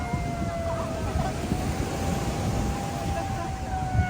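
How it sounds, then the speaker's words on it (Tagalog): Emergency sirens blare steadily beside a surf beach at San Juan, La Union, a sustained wailing tone held over loud wind and crashing waves throughout. "Yan po, mga nagwawangwang na."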